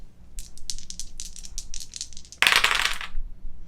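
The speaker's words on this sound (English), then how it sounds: "Okay, and I have my dice." Dice being shaken and rolled on a tabletop: a run of quick clicking rattles, then a brighter clattering tumble as they land, close and fairly loud, with no talking.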